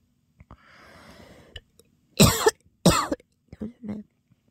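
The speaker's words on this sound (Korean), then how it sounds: "기침 안 나오다가 영상 들고 말하니까 기침 나." A person with a cold coughs two loud, harsh coughs at close range, with some breathy wheezing before them and a few softer throat sounds after.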